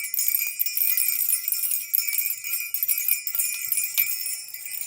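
Small bells jingle and tinkle continuously during a tarot card reading, with bright, shimmering metallic chimes and a few sharper strikes. The ringing is close and fairly loud, with no speech.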